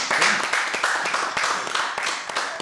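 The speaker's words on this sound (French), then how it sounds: "Vous pouvez l'applaudir parce que tu as une série." People watching a Formula 1 quiz applaud a contestant with a steady burst of close, busy clapping that continues evenly for a couple of seconds.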